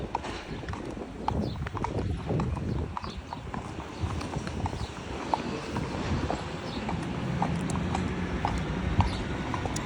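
Horse hooves clip-clop steadily on a hard main road, a close, even rhythm of several horses walking together, approaching traffic lights.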